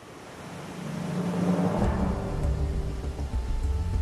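Glacial meltwater of the Trümmelbach falls thunders down inside an Alpine mountain in Switzerland, a steady deep roar that swells and holds, with no voices over it.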